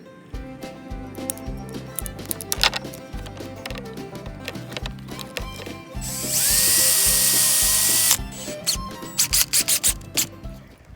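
A hoop for a garden hoop house is cut, giving a harsh, steady burst of cutting noise lasting about two seconds midway, set against ongoing clatter and rhythmic background sound.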